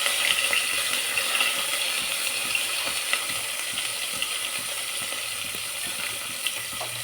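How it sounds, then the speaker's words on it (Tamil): Onions and curry leaves fry in a pan for an eggplant sambar, giving a continuous close sizzling hiss with small crackles scattered through it and no talk. "இப்போ வெங்காயத்தை போட்டுடலாம். கருவேப்பிலை போட்டுடலாம்."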